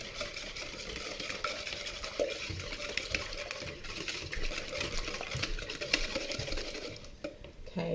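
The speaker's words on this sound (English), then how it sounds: "Then whisk them smooth." Pancake batter for German pancakes whisked smooth in a bowl, a steady close scraping and swishing with rapid rhythmic strokes continuing throughout.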